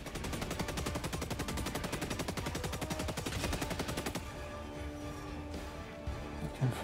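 Sustained automatic gunfire in Helldivers 2, a rapid, evenly spaced stream of loud shots for about four seconds, then ending abruptly into quieter mechanical hum and a last thud.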